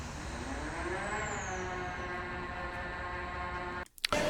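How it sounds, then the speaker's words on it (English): Car wash ambience: constant mechanical whirring with layered humming tones and spraying hiss at a steady, fairly loud level, then a brief dropout and clatter just before the end. "Car wash."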